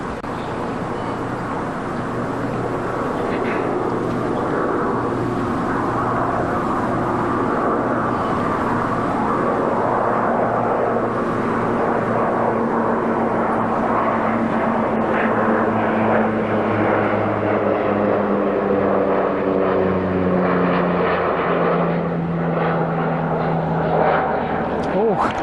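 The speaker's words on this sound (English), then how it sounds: "The shadow of that plane goes right over as she putts." A propeller airplane drones steadily overhead during a putt at the US Women's Amateur golf final, its engine pitch sliding slowly downward as it passes, with a commentator talking over it.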